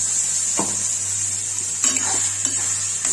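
Ground tomato and spices frying for Kashmiri rajma, a constant sizzle broken by a few scraping stirs and light clinks against the pan, close, with no speech.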